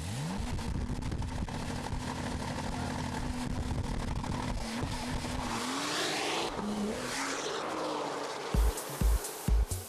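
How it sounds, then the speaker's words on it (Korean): A supercar engine roars and revs loudly, pitch climbing through gears with a raspy exhaust, then fading into sharp pops and crackles. "슈퍼카의 거친 울음소리가 시작되는 곳은 바로 엔진"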